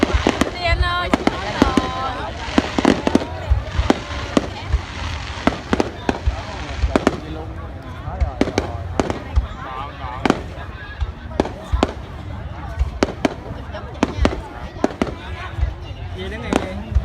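New Year 2019 fireworks display at a provincial conference centre in Tra Vinh, Vietnam: loud sharp bangs and crackling bursts in irregular succession, with people talking among the crowd.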